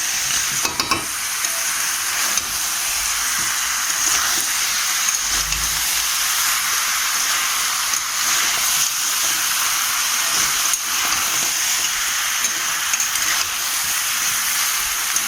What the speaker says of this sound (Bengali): আর একটুখানি নাড়াবো, তাহলে এই হয়ে যাবে পুরোপুরি।